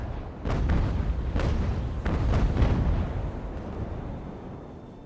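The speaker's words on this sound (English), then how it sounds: "HMS Ferret can have a go with the broadside" A naval broadside from a sailing warship in Ultimate Admiral: Age of Sail, heard as several heavy cannon booms fired in a ragged sequence over a few seconds, loud and rumbling, with a low battle din continuing after the volley.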